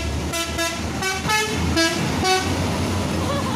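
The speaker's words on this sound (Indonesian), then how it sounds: "sebentar lagi kita akan dengar suara telolet" A loud telolet bus horn on an Indonesian bus sounds a series of short musical tones in a quick tune, over the rumble of engines and traffic, with voices nearby.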